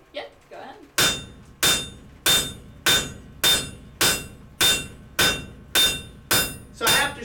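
Wrought iron is hammered on an anvil while a hammer is forged: about eleven sharp, ringing strikes in an even rhythm, each ringing briefly and decaying before the next, close and loud.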